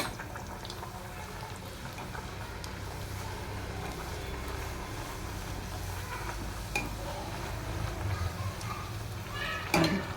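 Wedding-style puris made with Malabar spinach (basale greens) sizzle and bubble in a pan of hot oil, a steady, dense crackle that holds from start to finish and swells into brief louder bursts near the end.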